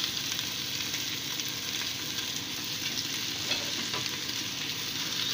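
Carrots stir-frying in a pan with garlic and onion for a lumpiang lechon filling, giving a steady, close sizzle with scraping stir strokes throughout and no talk.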